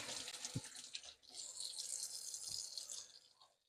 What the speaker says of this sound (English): Now I got to just wash this hand